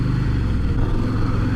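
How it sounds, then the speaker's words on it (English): A Harley-Davidson Fatboy S motorcycle engine runs with a steady low rumble, heard from the rider's position with wind noise, no voices over it. "Engine sounds nice."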